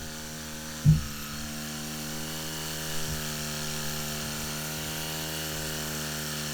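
A model aircraft running under its flight controller gives a steady, sustained motor drone with even harmonics, nearly constant in pitch, with a brief thump near the start and no talk.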